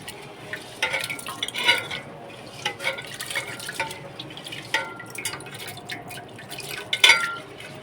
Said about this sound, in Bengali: এখন কিন্তু চালটা ধুয়ে নেব।